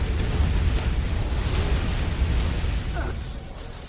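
A fireworks spell explosion in the Dungeons and Dragons: Heroes video game: a dense, sustained burst of crackling, booming blasts that roars steadily for several seconds at high volume, thinning slightly toward the end.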